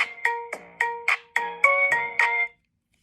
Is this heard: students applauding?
no